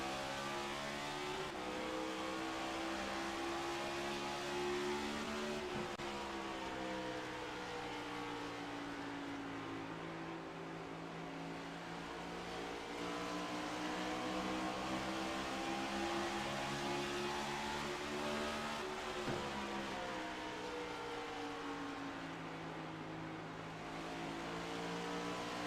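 Race cars in an iRacing sim race at Phoenix roar continuously with a steady high-pitched engine drone, pitch rising and falling as they lap, with no one speaking.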